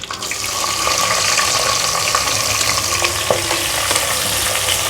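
Chopped onions fry in hot oil with spices for mutton bhuna gosht, giving a loud, dense, continuous sizzle close to the mic, with faint stirring clinks scattered through it.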